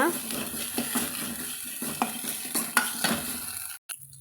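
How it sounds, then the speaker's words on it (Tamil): Thuthuvalai leaves with cumin and coriander are stirred and sautéed in a pan over moderate heat for soup, giving a soft steady sizzle with repeated scraping stir strokes, then a brief pause near the end. "தீயை அதிகமாக வச்சு நம்ம அந்த போட்டிருக்கிற சீரக மல்லியெல்லாம் கரைஞ்சி போயிடாமல் இது போல் மிதமான தீயிலே வச்சு சுருண்டு வர வரைக்கும் நம்ம இதை வதக்கி விட்டுக்கணுங்க"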